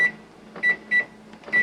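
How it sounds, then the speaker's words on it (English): A microwave oven heating barbecue sauce sounds a few short electronic beeps in quick succession as it is set, with a faint hum between them. "I'm gonna throw this into the microwave here."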